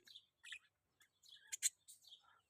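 A finch chirps in quick, high, thin bursts, a handful of short tweets close by with brief silences between them.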